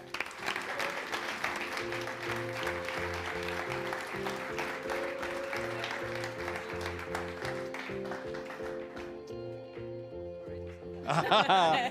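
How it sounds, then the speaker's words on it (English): Audience applause greets a guest at a ski race talk show in Sölden, steady and moderate under prominent background music, fading out toward the end as the music shifts. "please give a worldly round of applause for Laura Guberami"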